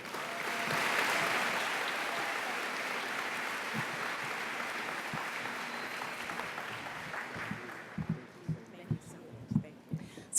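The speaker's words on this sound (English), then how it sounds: "Let's give another big round of applause for Dr. Baker" A school convocation audience applauds steadily, loud at first then fading out, followed by a few scattered sounds and a voice beginning to speak.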